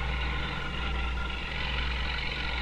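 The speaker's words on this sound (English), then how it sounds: "This tractor is pulling a corn chopper." A farm tractor pulling a corn chopper through a field of field corn, giving a steady, droning engine and machinery rumble that stays even and unbroken with no voices.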